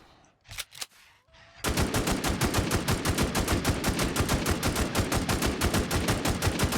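An AKM rifle with a golden eagle skin fires in the game Infestation, a few sharp single shots and then a long, loud, evenly paced burst of rapid automatic fire that runs without a break to the end.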